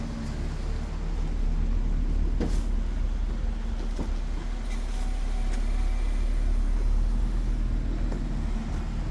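A hearse being moved around a building on its way to the paint shop gives a steady, close low rumble with faint clicks and knocks on top, continuous for the whole stretch.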